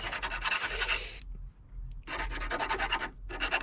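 Corrosion being filed off a car battery terminal clamp during a 2013 Nissan Rogue battery replacement, with close, quiet rasping strokes in short bursts separated by a brief pause.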